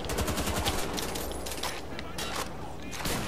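Rapid gunfire in Wolfenstein: The Old Blood, a flurry of loud overlapping shots with bursts and scattered cracks, under someone talking.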